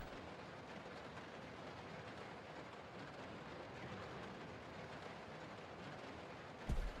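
A moving train in the video game Resident Evil Zero gives off a constant low rumble and rattle, broken by a brief heavy thud near the end.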